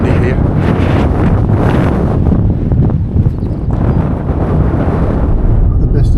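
Strong wind on a bleak Scottish hillside buffets the microphone with a loud, constant roar and rumbling gusts, fully dominating the sound.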